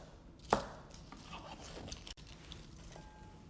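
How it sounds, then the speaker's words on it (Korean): A knife chops cabbage into bite-sized pieces for kimchi. One sharp, close chop on the board stands out early, followed by quieter scraping and faint handling sounds. "양배추도 썰어 주시는데 한 2 곱하기 2cm 정도"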